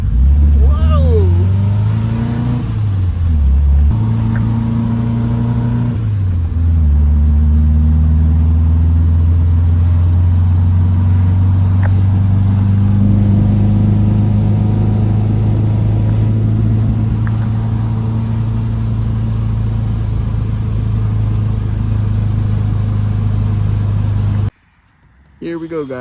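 A 1967 VW Type 3 Squareback with a newly installed engine drives along, its steady mid-pitched engine note rising and falling through shifts and revs, loud and close, with excited voices talking over it until the sound cuts out near the end.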